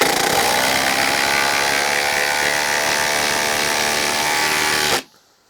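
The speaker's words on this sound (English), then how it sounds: "there is some definite hammering going on" A Milwaukee Shockwave impact wrench hammers steadily and loudly for about five seconds, a dense continuous rattling buzz, then cuts off abruptly into near silence.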